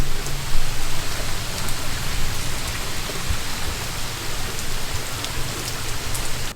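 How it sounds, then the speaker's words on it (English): Heavy rain pouring down outdoors on an all-day rainy morning, a dense, even hiss of drops striking surfaces that carries on steadily and close, with no voices. "It's, as I showed you, just been pouring down rain all day."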